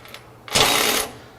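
A RIDGID 18V brushless cordless ratchet breaks a bolt free in a single close, loud whirring burst lasting about half a second, then cuts off, with no talk over it.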